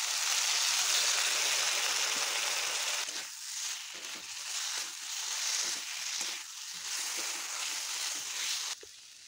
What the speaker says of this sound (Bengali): বাটিটা ধুয়ে একটু জল দিয়ে দিলাম।